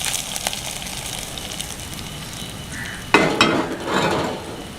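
Pongal being stirred in a cooking pot, a low sizzling bed under soft scraping, with a louder burst of clattering and stirring near the end; no voices.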